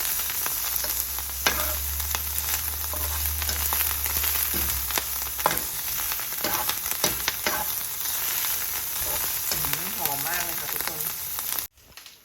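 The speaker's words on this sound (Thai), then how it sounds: "ผัดเห็ดไปสักพักหนึ่งนะคะ ให้สุกดีก่อนนะคะ ผัดไปเรื่อยๆค่ะ" Black trumpet mushrooms stir-fry in a pan with a continuous close sizzle, broken by spatula scrapes and taps, before the sound cuts off abruptly at the end.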